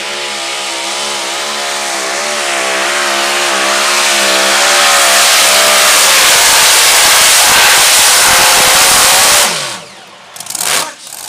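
A 2,500-horsepower pulling truck at a truck and tractor pull screams louder and louder as its engine revs up through a long, rising pull, then cuts off abruptly, leaving brief rumbling and crowd noise.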